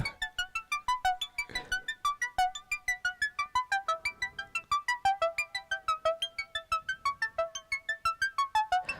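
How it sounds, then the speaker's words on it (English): A rapid synthesizer arpeggio of bright plucked notes repeats steadily, smeared with a hiss of tape-like noise from a tape-emulation effect underneath, fairly loud throughout with no voices. "Let's see if we can make it sound like a tape."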